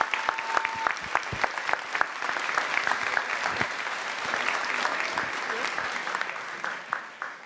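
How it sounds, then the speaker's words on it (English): An audience at a university convocation claps loudly and steadily, a dense crowd of applause that fades slightly near the end. "could we give a round of applause to Jose Olivas and Judith Estrada?"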